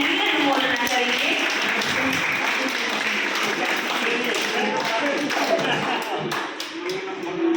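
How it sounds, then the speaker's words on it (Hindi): Children clap their hands together in steady, sustained applause at a gathering, the clapping continuing loud and dense throughout without a break. "सभी बच्चे तालियां बजाएंगे, अनुमोदना करेंगे।"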